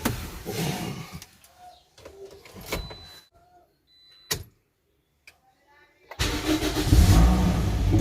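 A car engine cranks over and catches, settling into a loud, steady idle close by after several seconds of quiet with small clicks and knocks; faint sounds occur before it, and no one speaks.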